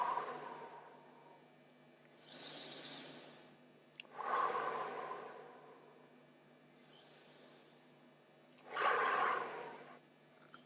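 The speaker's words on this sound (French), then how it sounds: "vous allez prendre des grandes respirations en collant la langue au palais quand vous inspirez et en relâchant la langue et en soufflant par la bouche quand vous expirez" Deep breaths with the tongue pressed to the palate on inhaling and released as air is blown out through the mouth, several slow soft exhales spaced a few seconds apart, faint and close, with a breathy hiss on each.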